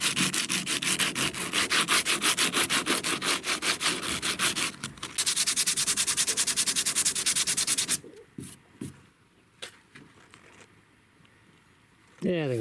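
Steady, rhythmic rubbing of sandpaper over hardened resin during fiberglass boat repair, loud and close for several seconds, then stopping, leaving scattered handling noises.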